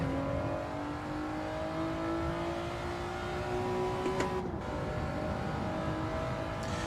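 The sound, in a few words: race car engine driving a lap in a racing video game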